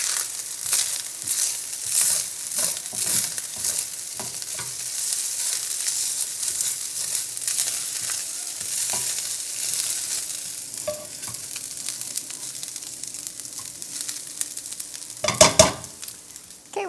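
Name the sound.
shrimp fried rice sizzling and being stirred in pan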